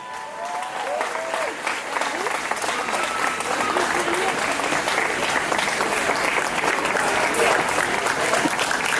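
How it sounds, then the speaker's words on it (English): A large audience gives a long, loud round of applause, thick continuous clapping with crowd voices and cheers mixed in, building at the start and staying strong to the end. "A huge applause."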